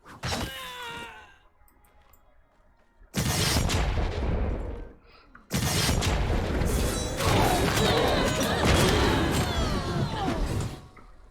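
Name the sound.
enemy shooting fire in the video game Wolcen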